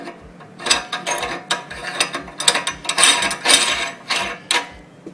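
The locking ring of an LEM meat grinder is screwed onto the head by hand, giving a series of close, clicking and ratcheting metal turns in irregular bursts with brief pauses between them.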